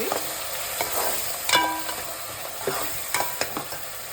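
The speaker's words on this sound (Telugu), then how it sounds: "ఇప్పుడు టమాటా ప్యూరీ అనేది ఏదైతే తీసుకున్నామో అది కూడా వేసుకోవాలి. వేసుకొని ఆ పచ్చి వాసన అనేది పోయినంత వరకు వేయించుకోవాలండి" Tomato puree sizzles in a pan with ginger garlic paste for an Andhra fish curry, a soft constant frying hiss with intermittent scrapes of stirring, close and moderately quiet.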